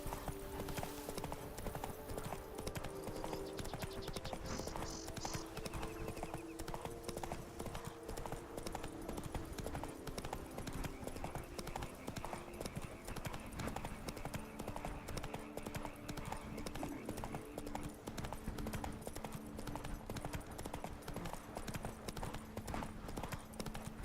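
Roach, the horse in The Witcher 3, clip-clops along with a steady, even hoof rhythm for the whole stretch, moderately close over a continuous bed of game ambience and music.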